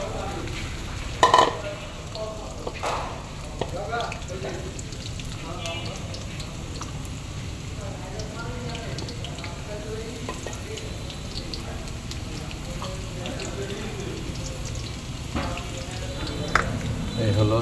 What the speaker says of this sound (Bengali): তেল গরম করার পর পেঁয়াজ এবং রসুনগুলো তেলের মধ্যে দিয়ে দিলাম।